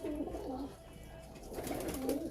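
Dubai breed female pigeons cooing nearby, two soft throaty rolling coos in a quiet loft.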